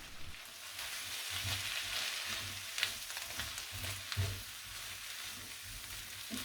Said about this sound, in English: Stir all that in.